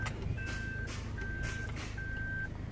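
A Toyota Rush backing up gives three evenly spaced high electronic reverse warning beeps, faint over a low idling engine rumble.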